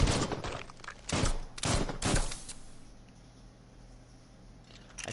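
Several rapid bursts of gunfire from the video game Biomutant, loud and close, clustered in the first two seconds before fading into a quieter ambient hum.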